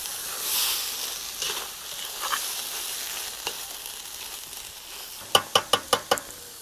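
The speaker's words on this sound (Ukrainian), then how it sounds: "Тепер до буряка я повертаю нашу першу зажарочку, морку з цибулькою. Гарно перемішуємо." A carrot and onion fry is stirred into beets stewing with tomato paste in a pot for Ukrainian borscht, giving a soft continuous sizzle with faint stirring scrapes, ending in a quick run of five spoon knocks against the pot.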